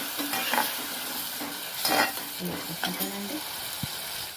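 Tomato paste fries in oil in a pan for egg biryani, a soft sizzle broken by close scraping strokes of a spoon stirring it and one sharp knock near the end.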